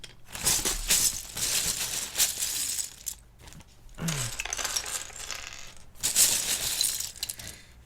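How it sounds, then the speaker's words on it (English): Plastic keyboard keycaps rattle and clatter as handfuls are scooped and sorted, bursts of dense clicking coming in waves with brief pauses between, close and fairly loud. "Making good progress here by the handfuls, sorting out these keycaps."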